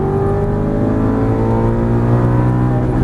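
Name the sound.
Aston Martin V8 Vantage GT race car engine accelerating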